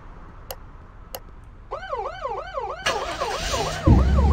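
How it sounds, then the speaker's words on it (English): An ambulance siren in the Flashing Lights emergency-services game wails in a fast rising-and-falling cycle after two short clicks, growing louder as engine noise builds beneath it. "this doesn't have the altered sirens."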